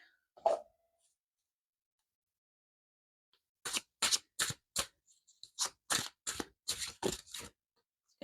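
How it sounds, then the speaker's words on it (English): Tarot cards are riffled and snapped in a quick series of crisp bursts after a lone slap and a long pause. "let me give these cards a shuffle"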